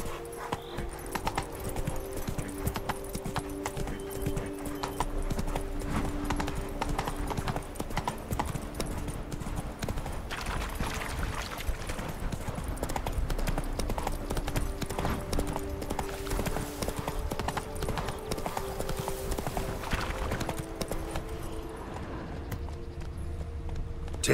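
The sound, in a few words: horse Roach trotting in The Witcher 3 video game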